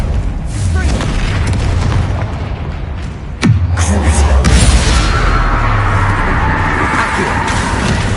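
A Confringo fire spell in the Hogwarts Legacy video game bursts into one loud booming explosion partway through, set against dense battle rumble and effects.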